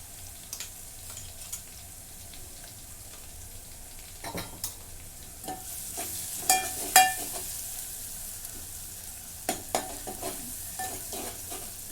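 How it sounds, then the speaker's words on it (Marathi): Coconut-coriander paste and tomato fry in a pan for a chickpea and brinjal curry, a soft steady sizzle with close scraping stirs coming every few seconds, a little louder toward the middle. "खोबरं आणि कोथिंबीरचं वाटण आणि हा टॅमॅटो दोन मिनटं भाजून घेते"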